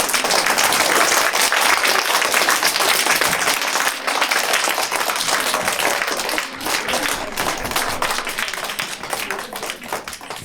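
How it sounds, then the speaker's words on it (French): An audience applauds after an Alsatian children's storytelling performance, with dense, sustained clapping that stays loud and continuous throughout and no one speaking over it. "Et on peut applaudir."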